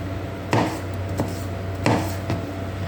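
A knife dices a pineapple on a flat cutting surface, giving about four sharp, close chops spaced roughly a second apart over a low steady hum.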